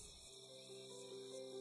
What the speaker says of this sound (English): This ever-opulent world is filled with insect chirps